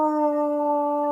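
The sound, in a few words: person imitating a wolf howl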